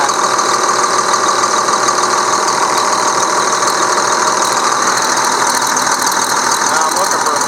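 A tractor engine running at idle with a steady, loud mechanical drone and faint knocking rattle, close by and unbroken, alongside a stalk shredder.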